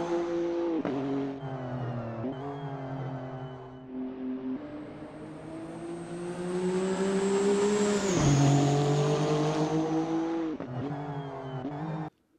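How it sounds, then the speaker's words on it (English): Honda NSX GT3 race car in Assetto Corsa, its engine droning loud and close, rising and falling through repeated gear changes and a sustained high-revving pull, with no voices. "The car is the Honda NSX GT3 ACC mod by the GT Planet modding"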